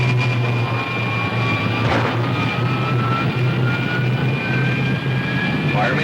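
Rocket ship jet engines fire in an old-time radio drama effect, a steady droning roar with a low hum and rising whine tones throughout.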